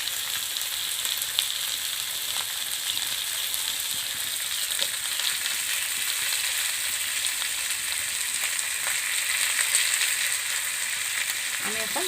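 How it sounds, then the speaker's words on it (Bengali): Chicken pieces and potatoes fry in a pan for a simple chicken curry, giving a steady, even hiss of sizzling oil that runs unbroken for twelve seconds, close and alone. "আলু আর মাংস দেওয়ার পর কিন্তু অনেকটা ছিল, এখন ভাজা হওয়ার পর কিন্তু অনেকটা কমে গেছে"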